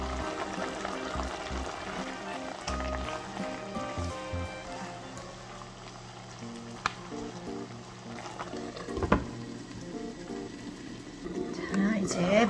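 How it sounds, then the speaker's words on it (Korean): Keto mala soup with egg-yolk noodles boiling hard on high heat, a soft bubbling and gurgling under a quiet, fairly steady background with a few clinks. "바글바글 끓으면 이제 양념장을 넣고 더 끓여주시면 돼요."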